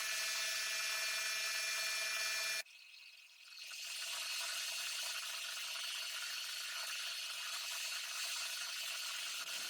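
A drill bores a hole in a metal 135-degree pipe elbow fitting with an M20 x 1.5 thread, giving a steady high whine that cuts off abruptly, then resumes as a slightly lower continuous grinding whir.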